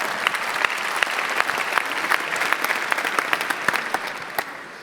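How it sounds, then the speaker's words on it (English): Audience at a startup pitch competition in the Netherlands applauds a round of contestants, a loud, continuous crowd clapping with sharp individual claps standing out, tapering slightly at the end. "A round of applause."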